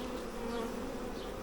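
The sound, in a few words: honey bee swarm buzzing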